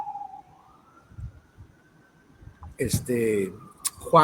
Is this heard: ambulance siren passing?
yes